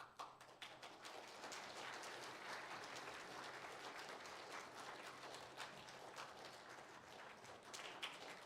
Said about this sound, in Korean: 다시 한번 수고에 박수하겠습니다.